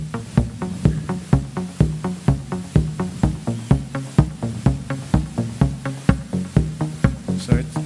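Machine drum driven by a MIDI Arduino, its notes randomized, pounds out a steady, fast electronic beat with regular punchy kicks and shifting pitched hits, loud and continuous throughout.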